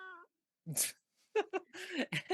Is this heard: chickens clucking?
no